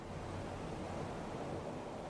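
Ocean waves wash onto the beach at Santa Cruz at sunrise as a soft, steady, distant broadband surf roar, faint and continuous with no voices over it.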